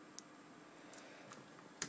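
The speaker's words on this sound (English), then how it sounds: "sorry guys that I am typing really slow" Quiet, sparse computer keyboard typing during a Cinema 4D text-editing session: a few isolated soft key clicks, with a sharper, louder tap near the end, over a faint steady room hiss.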